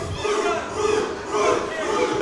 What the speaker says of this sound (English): Split crowd right down the middle.